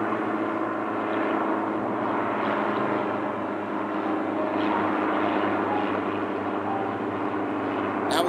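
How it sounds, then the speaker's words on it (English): A helicopter flies overhead as a steady, loud engine and rotor drone that holds for about eight seconds with no speech over it. "Now we got a helicopter."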